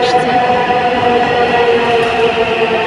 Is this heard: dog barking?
no